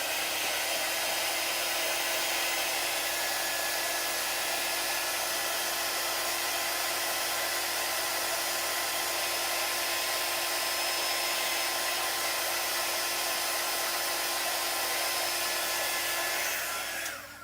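Hair dryer blowing continuously on chalk paste, a loud steady whir with no pauses for about seventeen seconds before cutting off at the end.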